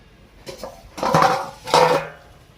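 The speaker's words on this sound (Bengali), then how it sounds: "এবারে আমি ঢাকনাটা খুলে দেখে নিচ্ছি" A metal lid comes off a cooking pot of boiled food in a home kitchen, with a few clinks and two louder scraping clatters close by, and no talking.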